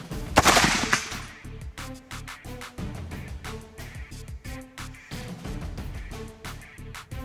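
Gunshots are fired on command from a gun in a strength challenge, with a sharp loud blast near the start and then a series of rhythmic, punchy reports continuing throughout.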